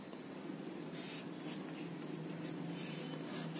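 Pen or marker writing a word inside a relationship box of an ER diagram, a soft continuous scratching and rubbing that stays quiet and steady throughout with no talking.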